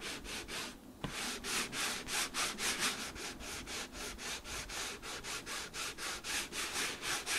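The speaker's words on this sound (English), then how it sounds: "I am just going straight to my page and rubbing over" A felt ink pad is rubbed over an embossed paper page in fast, even back-and-forth strokes, making a close, soft scratchy swish that repeats steadily with one brief knock near the start.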